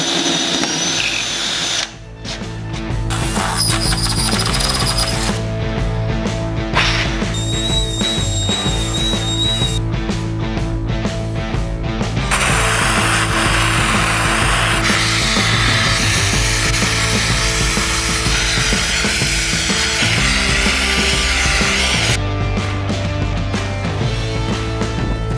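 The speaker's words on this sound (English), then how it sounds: "I found a 6-inch hole saw for like 15 bucks" Hole saw, 6 inches across, boring through a wooden cornhole board: a loud whirring drill that cuts in and out in several bursts with brief pauses, high tonal whines and grinding throughout.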